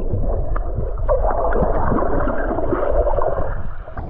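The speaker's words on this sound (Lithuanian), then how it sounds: "Jūra ošia, jūra banguoja." Sea waves wash along a hot Greek shore, a continuous close churning surge of water with no speech.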